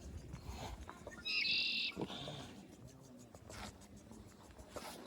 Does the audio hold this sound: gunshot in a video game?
no